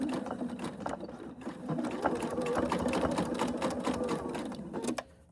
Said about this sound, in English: you're going to just top stitch